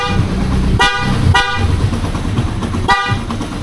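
A newly installed car horn is tested in a few short blasts, three sharp toots spaced over a few seconds, loud and close over a steady engine hum.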